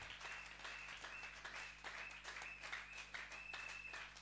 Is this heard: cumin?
no